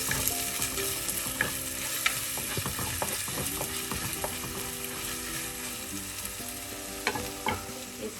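Sardines frying in oil with pepper and curry leaves while being mixed, a busy close sizzle with frequent spatula scrapes and clinks against the pan throughout.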